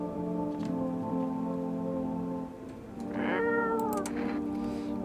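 A cat meows several times in the video game No, I'm not a Human, its harmonic cries rising and falling over steady soft rain-like background ambience, with the loudest meows near the end.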